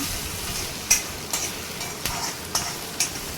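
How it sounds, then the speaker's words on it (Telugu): Thinly sliced onions frying in a pan for chicken rara, an even close sizzle broken by a few sharp spatula scrapes and taps at a loose rhythm. "సన్నగా తరుక్కున్న ఉల్లిపాయ ముక్కలు యాడ్ చేసుకోవాలి. బాగా ఫ్రై చేసుకోవాలి."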